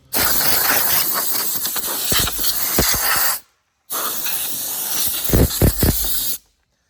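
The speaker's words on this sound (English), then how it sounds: "I usually just put the hose like this and spray the grass out" A garden hose sprays water in two loud, hissing bursts with a short silent pause between them, close by, while washing a Cub Cadet ZT1 zero-turn mower.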